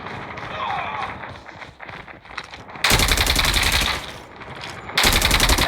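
Loud bursts of automatic gunfire from the mobile shooter game Call of Duty Mobile, two sustained volleys in the second half after quieter game ambience with faint voices.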